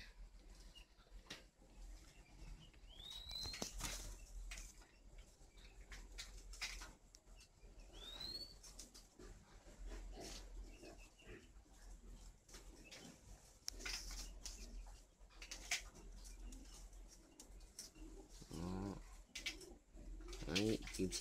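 Spotted dove of the northern Vietnamese type cooing in a breeding aviary, two clear rising coo phrases standing out over constant bird chatter, fluttering and background noise, with faint talk in places.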